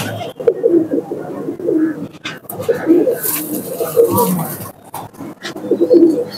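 Teddy pigeons coo close by in soft, repeated throaty rolls, several birds overlapping against a background of faint rustling and clicks.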